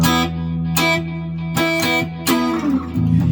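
Electric guitar chords strum and ring out with a sustained low hum droning underneath the whole time, fairly loud with a distorted edge.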